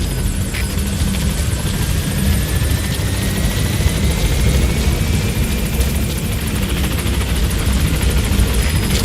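Helicopter approaching a landing zone in Metal Gear Solid V, a loud continuous rotor thrum and engine whine filling the whole stretch, up close.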